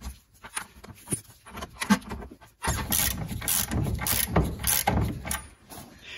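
A breaker bar works a ball joint nut on a Mercedes Sprinter, giving a scattering of faint metallic clicks and knocks, then a louder stretch of dense ratcheting and grinding clatter close by.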